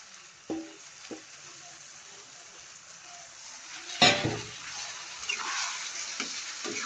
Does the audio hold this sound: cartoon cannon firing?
no